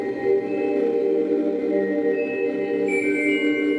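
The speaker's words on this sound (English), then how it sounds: "Tibetan chanting from the monks. It's the chanting of Om." Tibetan monks chanting Om in a sustained, drone-like meditative tone, with dense layered low harmonics held steadily and continuously throughout, fairly loud and close, with faint high overtones shimmering above.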